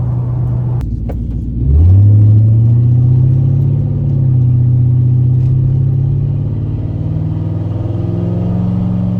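A Ford New Edge Mustang GT two-valve V8 burbles at low RPM, a loud steady rumbling idle heard from inside the car, rising slightly as the throttle opens after a couple of seconds.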